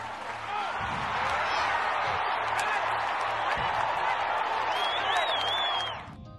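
A large crowd cheers and claps steadily, a dense roar of applause with whoops that holds for about six seconds, then quickly dies away.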